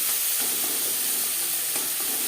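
Chili and tomato sizzle and fry in a pan over a high-to-medium gas flame, a steady hiss of frying with a few soft stirring scrapes, close and continuous with no talking.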